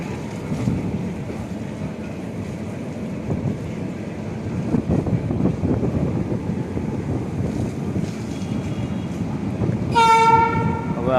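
The 22906 Okha SF Express picks up speed through Rajkot's Rail Nagar area, giving a continuous low rumble and wheel clatter with wind buffeting the microphone. A tonal horn-like blast rings out near the end.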